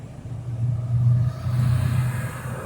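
A rental truck's engine runs close by with a steady, low rumble that swells a little and holds for the whole moment, with no voices over it.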